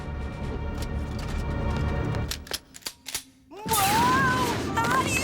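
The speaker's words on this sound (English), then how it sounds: "We can use the lasers and rocket packs to fight back!" Cartoon laser guns fire in a rapid run of sharp zaps and bursts, a brief quiet, then a loud rising whooshing blast with warbling tones.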